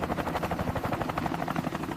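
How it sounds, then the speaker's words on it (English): Military helicopter of a light attack squadron lifting off, a loud, steady rotor chop with dense engine whine, close and continuous with no talk. "As one helicopter takes off, the ground crew prepares the next one"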